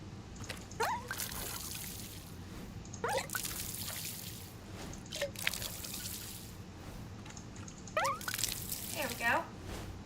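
Splashes and drips of water poured over plants in the video game Wanderstop, coming in several short bursts against a soft ambient music bed, with a voice speaking in between.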